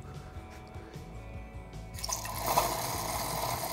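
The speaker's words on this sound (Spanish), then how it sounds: "vamos a añadir 100 de agua" Water poured into red wine, about 100 ml added to 200 ml, to make a Hungarian fröccs spritzer: a soft, close splashing that begins partway through and swells louder toward the end, with no talk.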